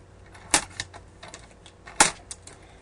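Two crisp scissor snips through paper while trimming a pocket for a junior legal pad cover, close and fairly quiet with small handling clicks in between.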